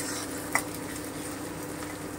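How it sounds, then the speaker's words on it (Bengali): Ginger fries in a pan with a soft, continuous sizzle, plus one brief clink of a utensil partway through; no one speaks. "জাস্ট আদাটা একটু ভেজে"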